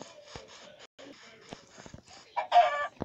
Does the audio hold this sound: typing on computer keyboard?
no